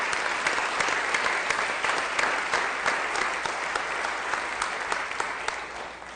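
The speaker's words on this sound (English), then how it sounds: "let's give the recognition, a round of applause to all of our employees" Audience at a school board meeting applauding employees, a dense steady clapping from a room of people that carries on for several seconds and tapers slightly.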